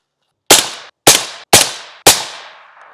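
Four sharp rifle shots of M855 ammunition fired while zeroing a rifle, loud and close, spaced roughly half a second apart, each with a quick decaying echo.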